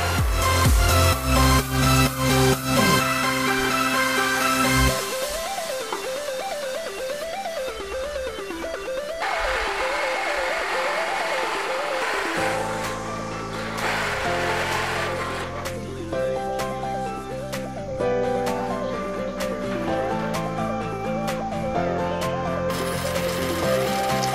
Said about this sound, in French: J'utilise une scie cloche de 32.